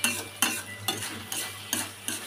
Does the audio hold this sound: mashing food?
yes